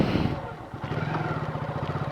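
A motorcycle engine idles and runs steadily as it is shifted into second gear, a close, continuous low putter with a rhythmic pulsing throb and no clear revving.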